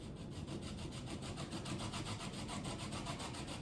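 A lemon is rubbed up and down a small hand grater for zesting, making a fast, rhythmic scraping rasp, quiet and close, with no talk.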